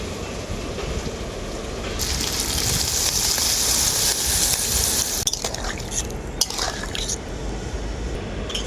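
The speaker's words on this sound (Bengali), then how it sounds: "এখন এর মধ্যে দিয়ে দেবো পরিমাণ মতো জল" Water is poured into a pan of spice-fried potato and pumpkin, setting off a loud hissing splash over a steady frying sizzle, followed by scattered clinks of a utensil against the pan.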